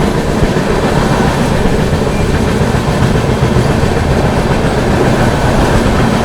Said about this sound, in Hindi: यहाँ पर कोई तो स्पेशल ट्रेन को हम लोग ओवरटेक कर रहे हैं